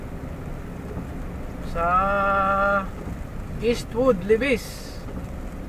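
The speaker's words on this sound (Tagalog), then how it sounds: "Basang basa na yung kalsada. Malakas po ulan dito." Heavy rain drums steadily on a car driving along C5 in Quezon City, its constant wash running under a driver's talk while a brief tonal navigation prompt sounds partway through.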